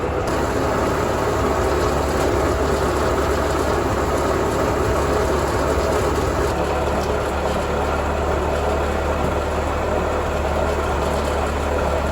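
Massey Ferguson TO-35 tractor engine warming up from cold, a steady, loud low idle with a constant rumbling drone throughout and no talking.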